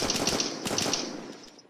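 Rapid gunfire from a World War One–era weapon in a zombie shooter game, a quick burst of sharp cracks with several distinct shots ringing out close and loud, tailing off toward the end.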